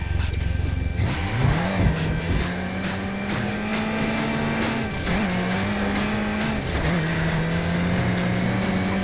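A car engine revs up and holds a droning pitch, dipping and climbing again between gear shifts, with a synthetic, game-like quality and no talking, from Midnight Club: Los Angeles, with a faint blow-off sound.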